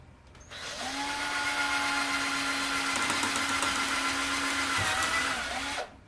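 Power drill boring a hole in a filter box, whirring loud and close at a steady pitch for about five seconds after spinning up, then winding down.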